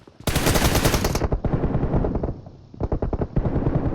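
Rapid, loud bursts of automatic machine gun fire in the mobile game PUBG Mobile, a long continuous volley followed by a brief pause and a second shorter burst.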